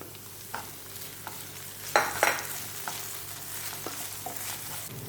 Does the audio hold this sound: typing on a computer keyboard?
no